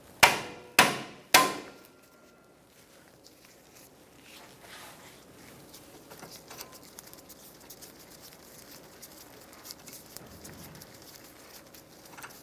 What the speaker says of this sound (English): I'm going to use an impact drive Phillips head screwdriver, and we're going to take out this screw.